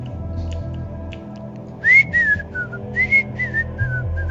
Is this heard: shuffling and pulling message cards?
no